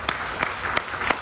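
Applause from an audience at a literary festival gathering, continuous clapping of a modest crowd with a few louder individual claps standing out at regular moments.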